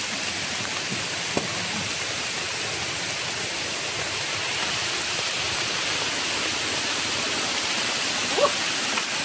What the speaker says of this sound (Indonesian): Sekarang ini cuaca hujan. Hujan lebat